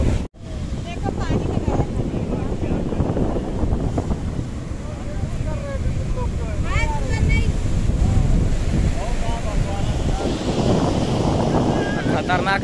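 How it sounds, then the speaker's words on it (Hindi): Sea waves and strong wind on the coast at Dhanushkodi, India, a steady rushing roar of surf and wind buffeting throughout, with no clear speech. "खतरनाक लहरें आ रही है।"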